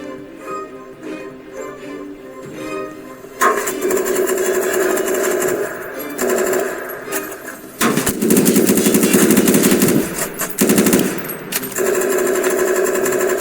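Rapid bursts of automatic gunfire from a video game, loud and sustained, with shorter pauses between volleys over a steady engine-like drone.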